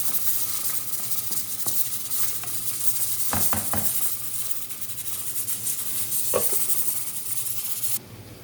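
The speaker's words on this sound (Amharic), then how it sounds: "ጠበስ እናደርግና ቃሪያችን ሽንኩርታችን ከዛ ትንሽዬ ቅቤ ጨመር እናደርጋለን" Peppers and onions frying in butter in a pan give a soft, continuous sizzle with a few sharp clinks and taps of a utensil against the pan, no talking.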